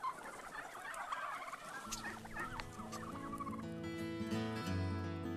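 Bourbon Red turkeys on a farm gobble in loud, rapid, warbling bursts, several birds overlapping close by, with steady background noise and no talk.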